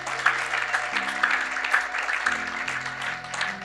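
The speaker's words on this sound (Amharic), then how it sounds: "አጨብጭቡለት።" A church congregation applauds during a Christian sermon, a sustained wash of many hands clapping over a held keyboard chord that shifts underneath.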